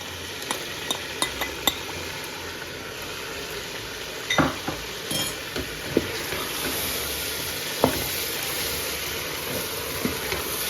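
Onions fry with spices, ginger and yogurt in oil for aloo pulao, a low sizzle under repeated sharp clinks and scrapes of a spoon stirring the pot.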